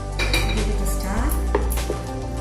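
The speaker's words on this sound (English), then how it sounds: "Give it a stir." Utensil scraping and clinking against a pan while stirring stir-fried chicken with honey and lemon juice, a steady close clatter of metal on cookware with a faint hum underneath.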